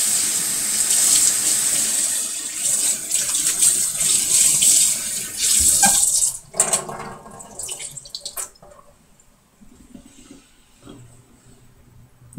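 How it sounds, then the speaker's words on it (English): A kitchen tap runs steadily while a Norwex cleaning rag is rinsed beneath it, the water hissing loudly for about six seconds before splashing and dripping down to a quieter trickle. "I will rinse out the rag"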